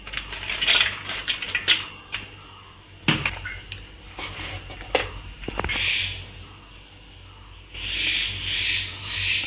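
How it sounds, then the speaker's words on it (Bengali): Around a kilogram of chopped onions going into a pot for Eid-style beef bhuna, heard as close scraping, rubbing and spatula clatter against the pot in uneven bursts, with no talking. "এখানে আমি হচ্ছে 1 কেজির মতো পেঁয়াজ কুচি দিয়ে দেব।"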